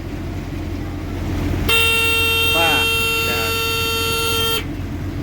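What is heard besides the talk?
vehicle horn being sounded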